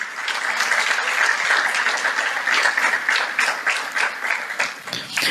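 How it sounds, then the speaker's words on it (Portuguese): Sustained applause from a church congregation during a family worship service, a dense steady wash of clapping filling the room for the whole stretch with no speech over it. "dê a ele uma salva de palmas"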